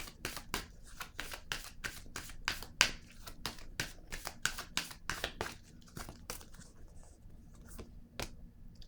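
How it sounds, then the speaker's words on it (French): Tarot cards are shuffled by hand in a quick run of crisp riffling slaps and flicks that repeat steadily and close up, then slow toward the end as a card is drawn. "Je vais piger une autre carte."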